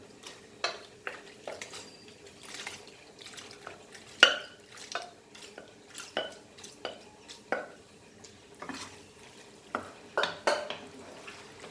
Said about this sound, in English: Mix this well.